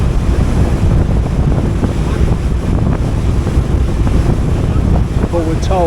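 Strong wind buffets the microphone on the open deck of a Bosphorus ferry, a loud continuous roar over the churning water, with faint chirping near the end.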